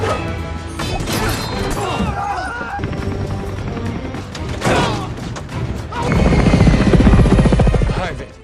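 A helicopter's thudding rotor and whining turbine run through a tense action scene, broken by sharp whacks and crashes, then swelling louder and closer near the end.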